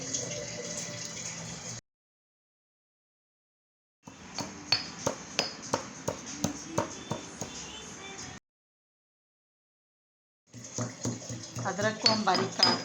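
Ginger and black pepper being finely pounded for a homemade cough remedy, heard as a run of sharp, evenly spaced thuds in two close bursts separated by silent gaps.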